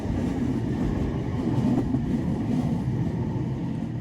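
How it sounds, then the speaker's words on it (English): Tram carriage running from Bury into Manchester Piccadilly, with a steady low rumble and rolling rail noise that stays loud and continuous throughout, without any voices. "We're actually on the tram going from Bury into Manchester Piccadilly."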